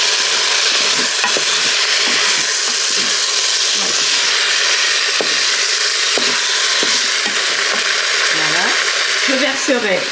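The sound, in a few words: veal with mushroom juice browning and sizzling in a pan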